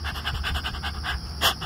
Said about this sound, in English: Panting really hard.